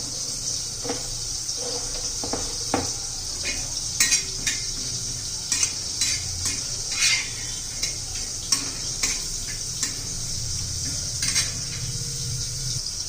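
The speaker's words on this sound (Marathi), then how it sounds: "हे पाच खोबरं कांदा आपण भाजून घेऊया" Dry coconut and onion roasting in a pan while being stirred for a bitter gourd masala, with scattered clinks and scrapes of a spatula against metal over a steady low background hiss.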